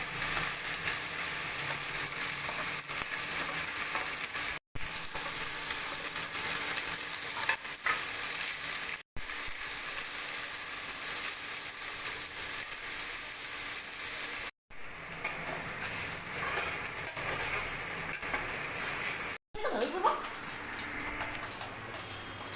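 Pieces of rohu fish frying in hot oil sizzle steadily for a long stretch, a close, crackling hiss with short breaks and some stirring clatter near the end.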